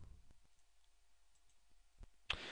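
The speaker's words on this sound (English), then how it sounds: "And we click into it." A computer mouse clicking on a web page: a few faint, isolated clicks in near silence, followed by a sharper, louder click near the end.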